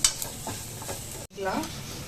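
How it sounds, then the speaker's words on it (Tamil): Garlic, chili powder and onion fry in a pan, a short stretch of sizzling with a stirring scrape, close up, briefly cut off midway before resuming. "இதோட பச்சை வாசம் போட்டு லைட்டாக ஃப்ரை பண்ணி விட்டுருங்க."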